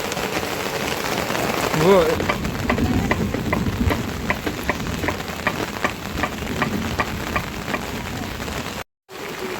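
Heavy rain pouring steadily on a slippery hillside path during a motorbike trip to a Raute settlement, a dense continuous wash of drops with a brief voice and a short dropout near the end.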